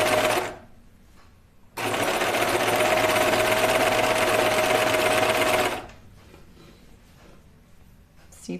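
A sewing machine stitches knit fabric for a Lucida dress in one fast, even run of about four seconds, close by, with quieter room sound before and after.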